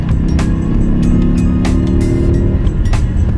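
A BMW M5 driving a winding mountain road: a loud, steady engine drone held at close range, with a few brief sharp ticks and no speech over it.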